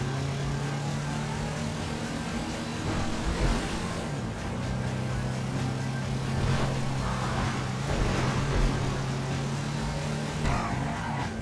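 A car creeps along slowly in Grand Theft Auto V, with a steady low engine drone and road rumble. A faint game hum runs underneath, and there is no talk.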